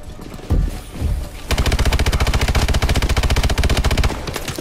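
KF5 submachine gun firing in the Call of Duty: Advanced Warfare campaign: a couple of isolated shots, then a loud, sustained rapid-fire burst of closely spaced reports lasting a few seconds before it stops.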